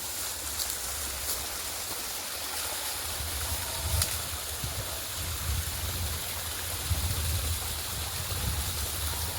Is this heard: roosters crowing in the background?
no